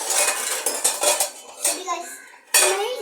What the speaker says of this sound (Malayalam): ഇതിൽ നമുക്ക് ഉരുളൻ കിഴങ്ങ് ഇടാം